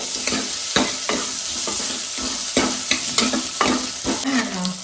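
Spices for a tempering sizzle loudly in hot oil while a spoon stirs and scrapes the pan in repeated, uneven strokes. The frying sounds close and steady, and no one speaks.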